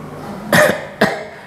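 Two short, sharp coughs from one person come close and clear, the second following about half a second after the first, with quiet in between and afterwards.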